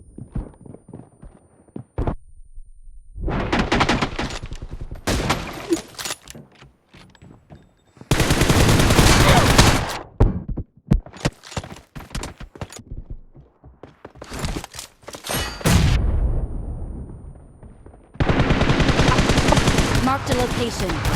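A shooter video game fills with heavy gunfire from every side: long bursts of rapid automatic fire and single sharp shots, loud and packed together. A player talks between them.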